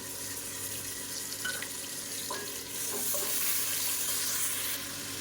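Large onions and ginger-garlic paste fry in fat for a wedding-style mutton biryani. A close, steady sizzle runs throughout with stirring, and the frying swells louder partway through.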